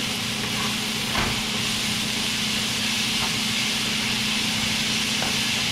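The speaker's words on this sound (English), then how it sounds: "just stir fry it, absorb all that flavor from the pan" Cabbage stir-frying in a pan just used to sear steelhead trout, giving off a loud, unbroken sizzling hiss with a few faint clinks.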